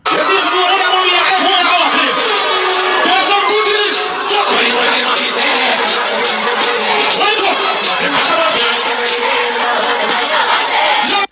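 A loud crowd at a dancehall show, Alkaline's Dream Weekend, cheers and shouts in a continuous dense roar, with voices and whoops rising out of it throughout.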